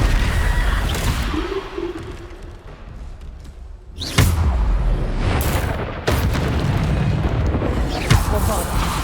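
Bombarda spell blasts in Hogwarts Legacy, a game explosion with a sharp boom near the middle followed by another burst and rumbling whooshes, set amid ongoing combat effects.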